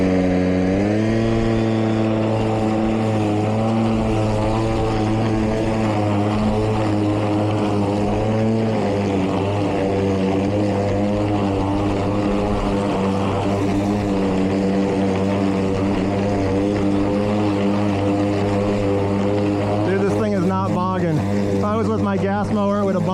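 Milwaukee 2823-22HD electric lawn mower running in high lift mode through long grass, a steady loud whirring drone with shifting pitch throughout, and a voice speaking near the end.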